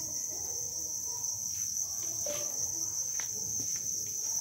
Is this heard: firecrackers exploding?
no